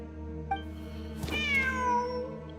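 A cat in the Genshin Impact video game meows once, a clear drawn-out cry that bends downward in pitch, heard over steady game background music.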